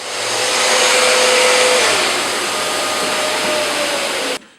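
A Rotex sander works on a piece of wood held in quick clamps, giving a loud steady motor whine with a broadband sanding hiss that runs throughout and cuts off abruptly near the end.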